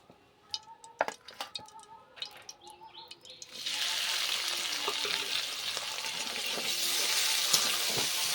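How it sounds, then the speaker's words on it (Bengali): Prawns drop into hot oil in a pan while cooking jackfruit and prawn curry: a few sharp clicks and clatters first, then a sudden steady hiss of frying that builds slightly and continues, fairly close. "এইবার আমি মাছটা আমি ভেজে নেব ওই তেলের মধ্যে"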